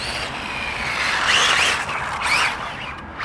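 A 100 MPH RC car whines past in an open space, its high motor pitch rising and falling twice as it speeds and turns, fairly close and loud.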